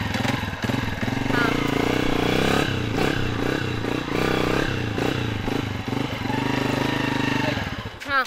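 A heavy motorcycle engine chugs and revs nearby in a village with clattering mechanical noise, steady throughout, while voices speak in Hindi over it.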